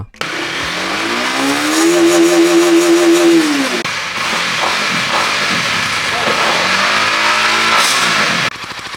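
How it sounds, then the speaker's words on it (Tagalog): A Honda Winner X 150 ABS underbone motorcycle engine revs hard and close, climbing to a sustained high pitch, dropping back, then rising in a second shorter rev before settling to idle. "At very aggressive ang tunog ng motor na to."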